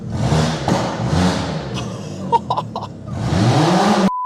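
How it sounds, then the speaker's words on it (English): A VW Fox GTI engine revs hard with its exhaust removed, giving loud, raw blasts that drop to a brief choppy idle with sharp pops, then surge again before cutting off. "we are going to start the car now and see what it sounds like"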